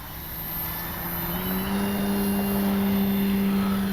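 An Avios Grand Tundra V2 RC airplane with takeoff flaps set powers up, its electric motor and propeller whine rising steadily in pitch and loudness as it accelerates for takeoff.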